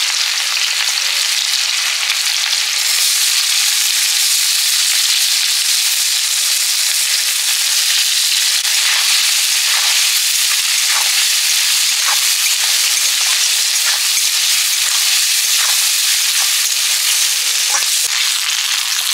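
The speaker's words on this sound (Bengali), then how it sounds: "মাংস রান্না করার জন্য প্রথমে ফোড়ন দিয়ে দিলাম, শুকনো লঙ্কা, গোটা গরম মশলা, পেঁয়াজ কুচি" Dry chillies, whole garam masala and chopped onion hit hot oil for a meat curry, giving a loud, hissing sizzle that runs steadily throughout, with light clatter from stirring and no talking.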